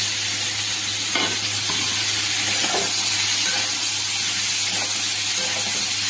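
Cumin, coriander and ginger spices frying in hot oil with chillies and sugar, a steady close sizzle with occasional stirring scrapes throughout, no talking.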